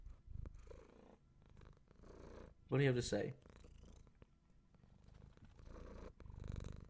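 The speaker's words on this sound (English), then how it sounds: "hopefully they hear the sweet purrs, that little engine revving" A cat purrs in a soft, low, rumbling rhythm close to the listener, with a brief spoken question partway through.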